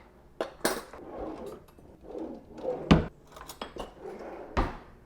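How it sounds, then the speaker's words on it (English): A big spoon digs into a jar of coconut oil in a home kitchen, giving soft scraping scoops mixed with several sharp clinks of metal against the container. "And just scoop out a ton of coconut oil."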